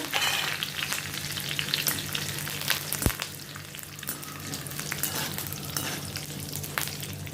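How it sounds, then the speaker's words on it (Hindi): Curry leaves fry in oil for murmura chivda, crackling and sizzling steadily at close range with occasional stirring and no voices. "अभी ये मैं कड़ी फ्राई कर देती हूँ।"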